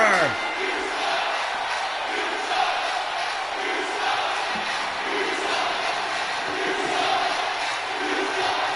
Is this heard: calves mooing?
no